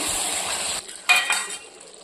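Brinjal and tomato curry with masala and coriander is stirred in a pan, giving a few scraping, clinking strokes of a spoon against the metal over a faint sizzle. The sound is close and moderately loud, with no talking.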